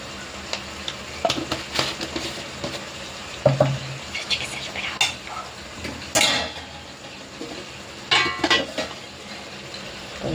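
Spices such as chilli powder and turmeric stirred into frying onions in a pan, with soft intermittent scrapes and clinks of a spoon against the pan over a low background sizzle.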